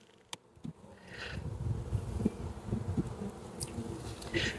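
Honey bees buzz steadily inside a hive, a dense droning hum that swells and stays close, with a few faint clicks and knocks near the start.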